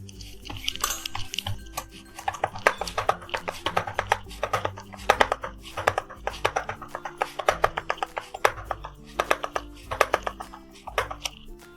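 Jowar bhakri dough patted flat by hand on a plate: a quick, steady rhythm of soft slaps, close and continuous throughout, with faint clatter in between.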